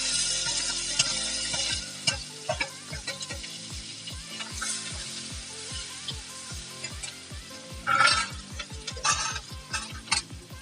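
Freshly chopped onions sizzling in a pan with cloves and cardamom for chicken do pyaza, a steady frying hiss broken by regular scraping stirs of a spoon against the pan, close and without talk.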